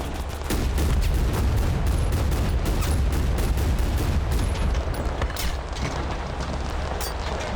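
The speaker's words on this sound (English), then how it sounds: "Obviously some RPGs over here if they're firing at the wall." RPGs fire at a wall in the video game Total Conflict: Resistance, a dense loud barrage of booms and gunfire rumbling continuously with sharp cracking bursts throughout.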